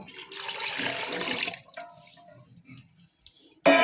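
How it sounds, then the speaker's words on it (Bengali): Water pours into a pressure cooker holding beef in a soft, splashing stream that lasts about a second and a half. Quieter trickles and drips follow before a sudden louder clatter at the close. "খুব বেশি জল অ্যাড করব না, অল্প পরিমাণে জল অ্যাড করব। তো জলটা আমি এখন অ্যাড করে দেব।"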